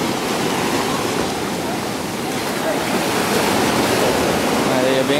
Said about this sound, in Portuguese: Mar do Caribe, aqui em Santa Marta